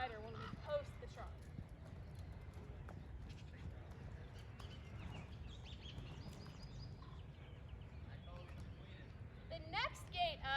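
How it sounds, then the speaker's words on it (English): A horse trots with its rider posting the trot, the steady two-beat clip-clop of hooves carrying through a busy, continuous background across the whole stretch. "Note it looks a lot easier for both horse and rider when we post the trot."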